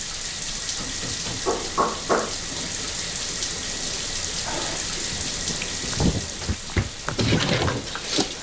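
Water runs from a broken tap in a continuous hiss, broken by several sharp knocks and clanks that cluster toward the end.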